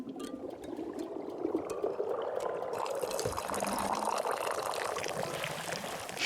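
Tea pours into a teacup in a tea-themed video game, a steady liquid trickle and splash running for several seconds at moderate level, close, with no talking over it.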